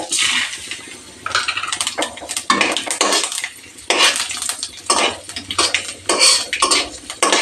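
Five-spice seeds and a broken dry red chili fried over low heat in a pan, stirred with a metal utensil that clinks and scrapes in irregular bursts, close and clear.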